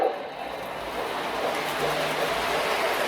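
A model train locomotive pulls a short line of cars along the track with a faint, steady rolling rumble and soft hiss, continuous and fairly distant.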